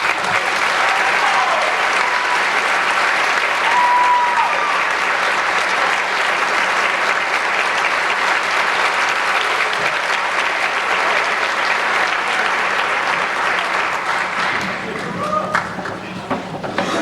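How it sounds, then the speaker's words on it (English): Sustained applause from an audience at a senior awards night honoring selected students, steady dense clapping throughout with a slight lift near the end. "Ladies and gentlemen, give them a round of applause."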